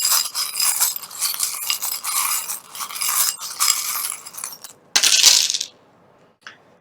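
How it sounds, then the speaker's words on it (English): Small hard charms rattle and clatter in a continuous shuffling jumble, then a brief louder scatter as a few drop onto a table, followed by quiet. "I'm going to grab a couple and drop onto the table"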